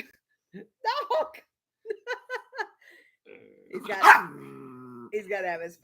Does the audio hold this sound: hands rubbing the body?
no